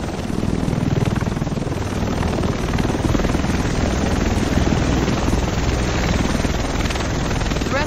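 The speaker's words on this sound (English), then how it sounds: "The rest of us should be in this chopper." A helicopter arrives in Tom Clancy's The Division, set in Manhattan, with a loud, steady rotor and engine roar that holds without a break from start to finish. No one speaks.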